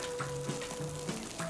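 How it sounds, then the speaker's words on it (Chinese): A meat patty made with salted fish, water chestnut, coriander and mushroom pan-fries to golden brown, giving a soft, steady sizzle close up with faint background hum and no talking. "就把它煎到像这样的金黄色"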